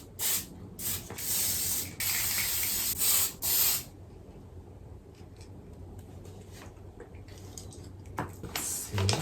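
Pink spray paint hisses from an aerosol can onto thrifted shorts being custom painted, in several close, loud bursts over the first four seconds, followed by quiet room tone and a final short spray.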